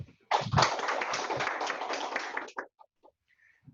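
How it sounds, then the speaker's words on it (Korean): Applause welcoming a presenter at an academic tax society session, a dense burst of clapping that starts abruptly, runs steadily for a couple of seconds and then breaks into a few scattered final claps before quiet. "박수로 맞아요"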